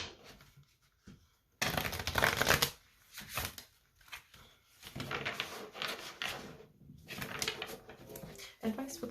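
Tarot cards being shuffled by hand in several quick riffling bursts separated by short pauses, close and fairly soft.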